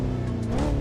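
Engine note of a Cadillac CT5e driven in the Assetto Corsa racing game, a smooth, steady tone that rises slightly in pitch as it accelerates, continuous and fairly loud.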